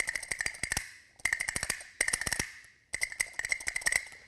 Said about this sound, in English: So now that's the sound of the plastic castanets.